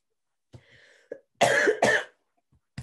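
A few harsh coughs close to the mic, two strong bursts in the middle with quieter throat sounds before and a final cough at the end.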